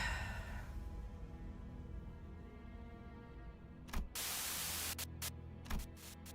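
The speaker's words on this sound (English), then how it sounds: "A sudden buzz of white noise breaks through the truck's silence" A sudden burst of radio static in Limbus Company crackles in after a low droning hum inside a truck, hissing loudly for a moment, then cutting in and out in short bursts.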